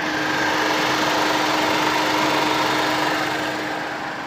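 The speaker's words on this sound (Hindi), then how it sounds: "और AC चालू होने के बाद इतना ही साउंड है।" A 2023 Renault Kiger RXZ SUV idles with the air conditioning running, a steady, even engine hum with a faint whirring tone. It is moderately loud, constant and unaccompanied by speech.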